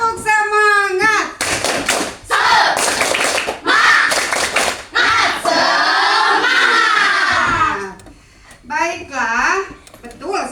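Schoolchildren in an Indonesian classroom clap a rhythmic spirit clap, loud sharp bursts of patterned clapping mixed with children's chanting and shouting, close by.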